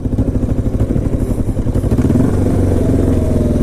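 A 500cc quad ATV engine running on a forest road, a loud close low-pitched throbbing rumble that pulses steadily, then rises and smooths slightly as the rider shifts into second gear.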